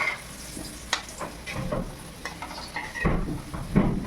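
Potatoes for a mutton curry sizzle in hot oil while a spatula scrapes and stirs the pan in uneven strokes, close up, with no talking.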